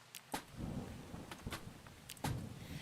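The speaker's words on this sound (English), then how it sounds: "It is raining outside." Steady rain falls in the Starbound video game, a continuous broadband patter with a few soft thunder-like rumbles and brief bursts, moderately quiet with no voices.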